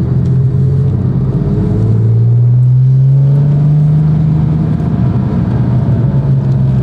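A British car's engine runs loud and near at around 1000 rpm, a heavy droning rumble with a slowly rising tone partway through, steady and alone without talk.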